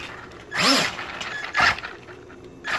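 The motor of a Traxxas Slash RC car whines in two short throttle bursts close by, each a brief rising electric whir with light gear chatter in between.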